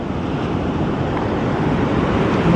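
Ocean waves wash onto a beach in a continuous, close, rushing hiss, with gusty wind buffeting the microphone and no talking.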